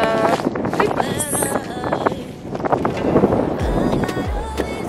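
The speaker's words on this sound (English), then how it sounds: "It is really windy and really hot in Saskatchewan, Canada." Strong wind blowing outdoors on a hot day in Saskatchewan, Canada, a loud gusty rumble buffeting the microphone throughout, with scattered knocks and clatter in the background.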